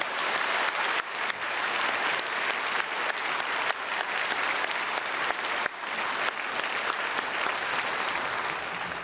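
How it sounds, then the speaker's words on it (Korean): Sustained, dense applause from a church congregation during a Sunday worship service, thanking the choir for its praise and performance; loud, even clapping with no break for nine seconds. "찬양대 찬양 또 귀한 연주 감사드리고 박수로 축복하겠습니다"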